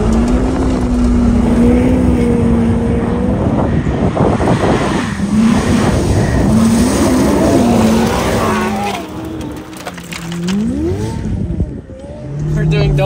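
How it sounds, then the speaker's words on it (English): A Ferrari spins donuts, its engine revving loud and close with rising and falling pitch sweeps and tire scrub, while voices shout over the roar. "We're doing donuts in a freaking Ferrari."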